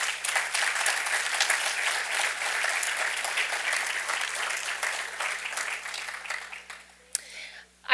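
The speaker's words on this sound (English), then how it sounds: "Would you please give them a round of applause?" An audience at an evening panel discussion breaks into sustained applause, steady and full for several seconds before tapering off near the end.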